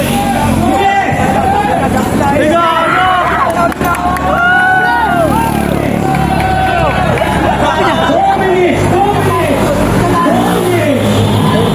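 Spectators lining an open road bike race at the Kalumpang Bike Fest in Marikina City raise a loud, continuous babble of shouting and cheering, with voices overlapping up close and people talking throughout.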